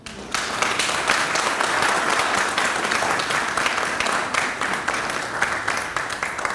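A large crowd at a gathering with Haiti's president and consulate staff in New York breaks into applause, a dense, loud, sustained roar of many hands clapping that begins abruptly and holds steady.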